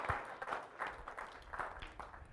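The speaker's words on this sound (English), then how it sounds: "please clap for that" A church congregation claps quietly during a Lent Sunday service, with sparse, uneven individual claps at a fairly distant, low level.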